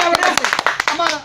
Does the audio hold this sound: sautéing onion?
no